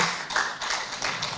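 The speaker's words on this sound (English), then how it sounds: "give yourselves a round of applause" Brief applause from a conference audience: a dense patter of hand claps, moderately loud and close, swelling and easing over a second or two.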